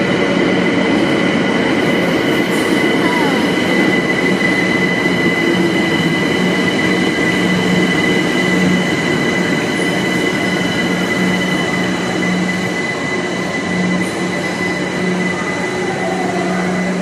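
A London Underground train runs on its way toward Whitechapel, giving a steady, loud rumble with rail hum and faint wheel squeal throughout and no voices.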